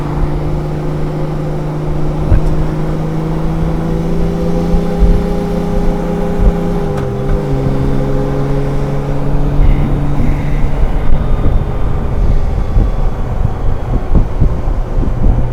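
A 2003 Honda GL1800 motorcycle cruising on a Florida road toward Choctaw Beach Park, its engine a loud steady drone with a pitch shift midway, under constant wind rush at the microphone.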